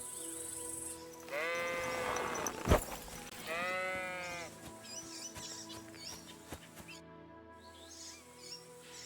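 Sheep bleat in Kingdom Come: Deliverance 2, two drawn-out wavering cries close by, set against soft outdoor game ambience with a brief sharp knock between them.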